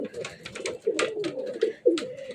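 Teddy pigeons cooing close by in a loft, a series of soft throaty coos repeating in short bursts with faint background chatter.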